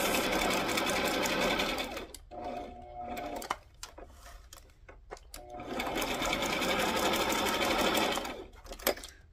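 A sewing machine stitches through a cupcake liner card holder in two long, loud bursts of rapid whirring, separated by a quieter stretch of clicks and small handling noises.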